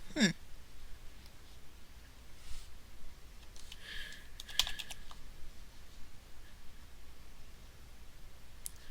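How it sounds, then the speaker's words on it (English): Keys clatter steadily on a dusty computer keyboard, close and fairly quiet, in irregular bursts of typing with a few louder clicks and a brief breathy sound at the start. "My keyboard's a little dusty."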